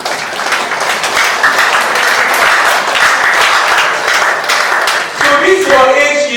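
Steady, dense clapping from an audience at a motivational talk, a continuous roar of many hands that runs throughout, with a few raised voices and cheers breaking through near the end.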